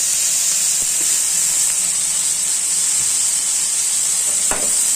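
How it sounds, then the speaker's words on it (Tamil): Onion and tomato sautéing in a pan with turmeric and chilli powder give a steady, close frying sizzle with a constant hiss throughout, broken by a few soft stirring knocks. "இது கூடவே ஒரு ஸ்பூன் அளவுக்கு மிளகாய் பொடி சேர்த்து நல்லா வதக்கிக்கணும்."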